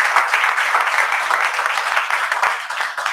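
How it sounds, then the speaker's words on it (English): Loud, close applause from a meeting audience, a dense steady patter of many hands clapping without break. "big applause"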